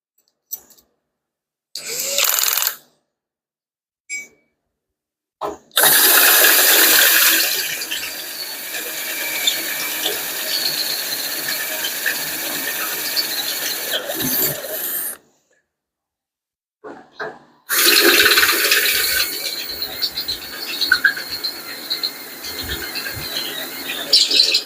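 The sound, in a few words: drilling a hole with a step drill bit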